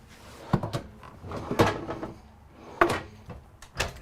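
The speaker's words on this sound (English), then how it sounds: "Down below, 3 big drawers. Again, all quiet close." Several soft wooden thuds as soft-close drawers in an RV slide shut gently, spaced about a second apart, fairly close.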